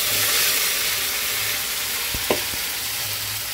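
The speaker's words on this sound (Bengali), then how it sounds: "এবার এই বেটে রাখা মশলাটা দিয়ে দিচ্ছি" Ground spice paste hits hot oil already seasoned with whole cumin, bay leaf and dried red chilli, giving a loud, steady sizzle with one or two brief knocks of the utensil midway and no voices.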